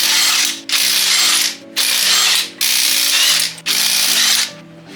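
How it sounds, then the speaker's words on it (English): Ratchet clicking loudly as it removes the brake caliper bolts on a 2007-2013 second-generation Toyota Tundra, four long bursts of rapid ratcheting separated by brief pauses, close and alone. "Remove the 2 bolts securing the caliper."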